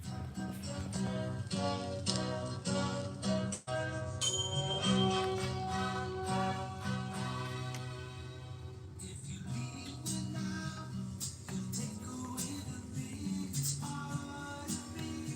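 Recorded music plays from a vinyl record at moderate volume, a full band mix with sustained tones and a brief dip partway through, no talking over it.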